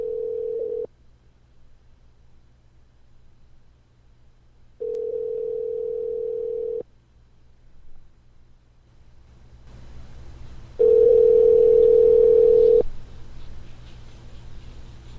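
An unanswered phone call on live radio, with three long, steady ring tones separated by silences, the last one louder over rising background noise before voicemail picks up.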